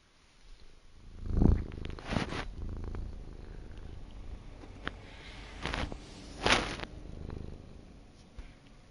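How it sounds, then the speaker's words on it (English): A cat purrs steadily close to the microphone, the low rumble broken by a few soft bumps and rustles as she presses her head against something. "That's the cat giving head bonks."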